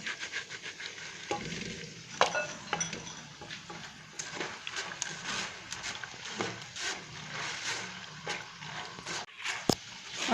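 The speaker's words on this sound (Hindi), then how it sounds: "अब हम मूंगफली को भी फ्राई कर लेते हैं।" Peanuts fry in hot oil for homemade nimko, giving a steady close sizzle broken by frequent clinks and scrapes of a utensil stirring against the pan, with no voices.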